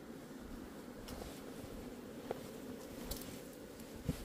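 Hornets buzzing as they fly in around the hives at an apiary in autumn, a steady low drone with a few sharper passes close by, continuous and fairly quiet with no voices.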